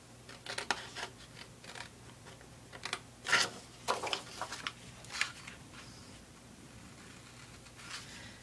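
Scissors snipping around the paper flaps of a handmade Hello Kitty journal, a series of short crisp cuts spaced irregularly, close and fairly quiet, with no talking.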